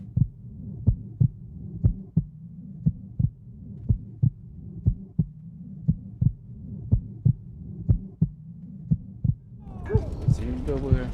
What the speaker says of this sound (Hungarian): Szívdobogás.